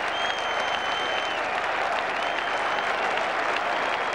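A large crowd at a 1981 Ashes Test cricket match applauds the fall of a wicket, clapping in a dense, loud, sustained wash that holds steady for the whole stretch.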